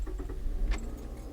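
A 2017 Toyota RAV4 engine starts with a short cranking burst before settling into a steady low idle, heard up close with no talking.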